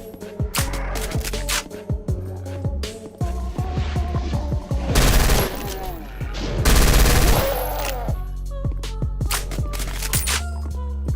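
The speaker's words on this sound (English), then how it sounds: "I'd even say these SMGs have got the juice as well." Rapid submachine gun fire in the GZDoom High Noon Drifter mod for Doom, sounding as loud, dense, overlapping bursts of shots and booms that run almost without a break through the whole stretch.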